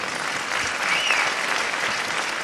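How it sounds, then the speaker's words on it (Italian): A room full of people applauds steadily, a dense wash of clapping at moderate volume throughout. "ancora un applauso per Letizia."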